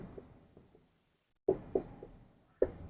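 Chalk writing on a classroom board during a sculpture-types lesson, a series of short scratchy taps and strokes, several clustered early, then a silent gap and a few sharper strokes.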